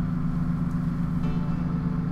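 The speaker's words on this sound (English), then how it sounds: "putting the microphone right over top of the fans" A Dreamcast console's cooling fans drone directly beneath the microphone, a steady low buzzing hum with strong tonal bands, continuous and close, with no speech.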